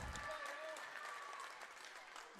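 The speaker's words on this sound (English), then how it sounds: "listen to this crowd" Crowd applause and cheering at a high school volleyball match following a long rally, a broad steady clatter of clapping with some voices mixed in, sustained for the whole stretch at moderate distance.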